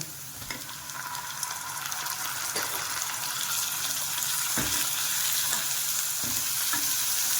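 Chopped onion and tomato sauté in hot oil in a pan, giving a steady, soft sizzle with occasional stirring scrapes throughout.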